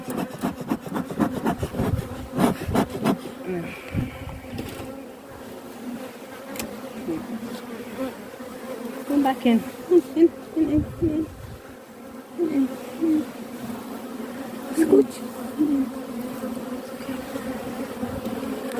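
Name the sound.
honeybees buzzing at hive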